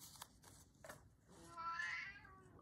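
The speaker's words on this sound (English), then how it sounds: "He's meow-meowing here." A house cat meows indoors near an art journaling desk, giving one drawn-out rising and falling meow after a few soft taps and rustles, fairly close but not loud.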